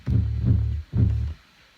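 Deep, rumbling sub bass notes from an electronic music track pulse in two heavy swells, booming low and loud before cutting off into quiet.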